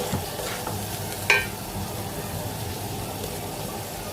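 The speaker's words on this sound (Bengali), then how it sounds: "চালটা মোটামুটি ভাজা হয়ে আসলে মানে চাল আর মুগ ডালটা" Rice and mung dal for khichuri fry in a pan with a steady, close sizzle, broken by one sharp scrape of a spoon about a third of the way in.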